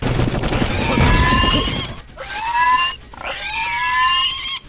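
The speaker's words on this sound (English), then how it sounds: "I also heard the pigs, which sound just like sentry drones from Duke Nukem 3D for some reason" Pig squeals from the PC video game Nitro Family, loud and upfront: three shrill, harmonic-rich squeals in a row, the first long and rough over a noisy burst, then two shorter ones separated by brief gaps.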